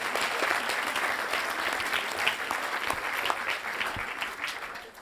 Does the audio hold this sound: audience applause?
yes